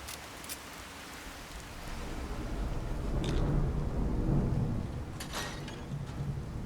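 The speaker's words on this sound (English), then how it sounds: "Hey, instead of fog, we get rain." Steady rain with a low rumble of thunder swelling midway in the Fallout 4 video game, a continuous wash of noise with a few brief crackles and no talk.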